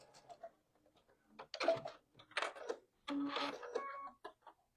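Sewing machine running a short back stitch during a live sewing session, a few brief mechanical bursts of ticking stitches separated by pauses, close and fairly quiet.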